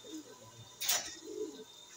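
Pigeons in a fancier's loft, with a soft cooing call and a brief brighter flutter near the middle over low, faint background noise.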